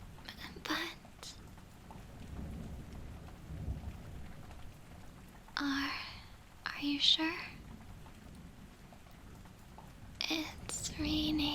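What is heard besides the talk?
heavy rain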